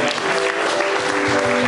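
A church congregation applauds the Lord during a sermon, producing dense, continuous clapping at a fairly loud level with a faint steady tone beneath it.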